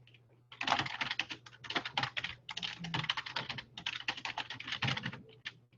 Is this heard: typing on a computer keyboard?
yes